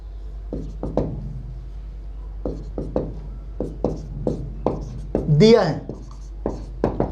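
A pen or chalk writes out a maths solution in a run of short, close scratching taps and strokes with irregular rhythm. Someone speaks Hindi over the writing as he explains the problem.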